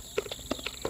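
Horse hooves clip-clopping in a Roblox equestrian game, four or five crisp, evenly spaced hoofbeats in quick succession, close and clear with nothing else over them.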